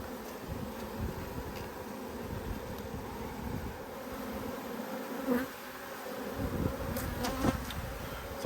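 Honey bees buzzing in an opened hive during autumn winter preparation, a soft continuous hum with occasional louder close buzzes and light handling noises.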